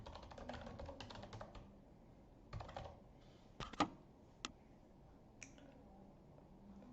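Fingers typing on a computer keyboard, quiet scattered key taps in short bursts with pauses, close and alone.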